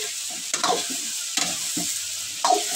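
Fish frying in a large pot for a big village cooking, a loud continuous sizzle broken by several sharp scraping stirs of a utensil against the pot, with no voices.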